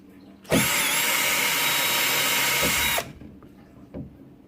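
A power drill whirs loudly and steadily into a cupboard for about two and a half seconds, then stops, leaving a few faint clicks and knocks.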